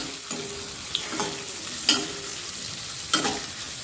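Onion, green chillies and curry leaves fry in oil with a soft, steady sizzle, broken by a few sharper scrapes and clinks as they are stirred.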